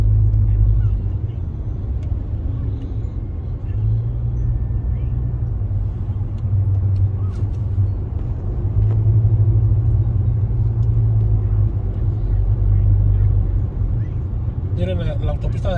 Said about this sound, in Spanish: Ahorita ya demasiado tráfico.